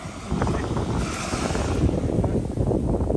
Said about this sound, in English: Actual waves, and they crest a little bit.